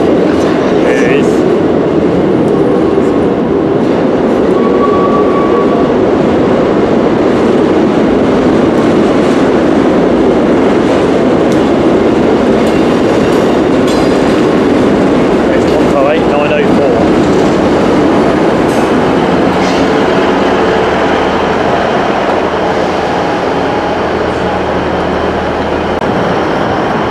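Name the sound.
Northern passenger train arriving at a station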